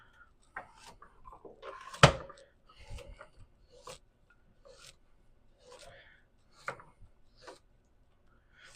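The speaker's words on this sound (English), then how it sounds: "we'll take 3 of these and just kind of chop the heads off. Get rid of those, and then we'll just slice them" A knife chops and slices carrots on a board, quiet scattered cuts in an uneven rhythm with one sharper knock near the start, soft and close in a quiet room.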